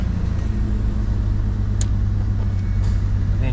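A 4.0 engine, fitted with a high-volume oil pump and fresh oil and filter, runs at a steady low idle, a constant close rumble with a few faint clicks on top.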